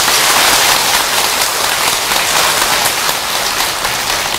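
An audience at a Buddhist temple dharma talk breaks into dense, sustained applause, loud and continuous for several seconds with no voices.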